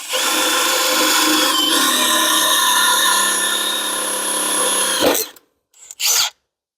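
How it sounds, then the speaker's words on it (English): A power drill bores through a mounting hole on a dolly during a motor controller upgrade, whining loud and steady for about five seconds before stopping, followed by two short bursts. "We're going to drill right through this hole."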